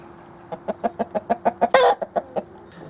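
A rooster lets out a rapid series of sharp, rhythmic clucks that build into a brief loud squawk near the end, close to the listener.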